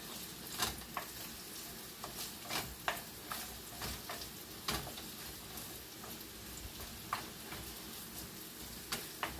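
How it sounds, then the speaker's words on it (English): Rice being stirred in a pot while cooking a Moroccan chicken tagine, with irregular scraping ticks and soft knocks of the spoon over a steady low simmering bed, close and fairly quiet, no talking. "Get my rice stirred."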